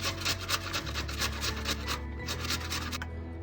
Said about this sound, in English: I am going to grate it